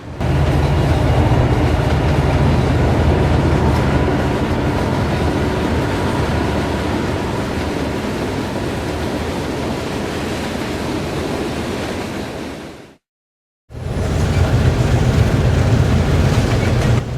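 A freight train hauled from Philadelphia rumbles steadily with a broad, continuous roar, cutting out briefly before resuming just as loud.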